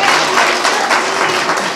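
Audience applause, a dense, steady wash of clapping from many hands that stays loud and continuous throughout, with no talk over it.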